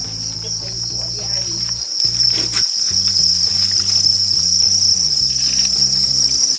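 Dense, steady chirping of many crickets at a cricket farm in Chiang Mai, Thailand, a continuous high trill running throughout with a low tonal backing sound underneath.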